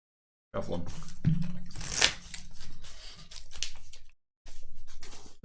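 KeyForge card decks are being shuffled by hand, with brisk riffling and scraping bursts in several close, crisp runs separated by short pauses.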